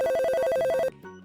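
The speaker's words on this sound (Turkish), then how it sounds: "Ay bir dakika telefon çalıyor." A phone rings in a home in a Turkish children's cartoon, sounding a rapid repeated electronic trill for about a second before stopping abruptly, leaving faint background sound.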